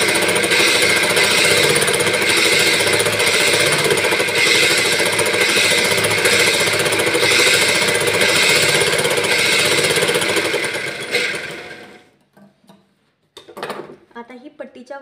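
A sewing machine runs steadily as it stitches a strip of blouse fabric, a dense and loud mechanical whir that goes on unbroken for about twelve seconds. It then stops abruptly, and a few brief handling knocks follow.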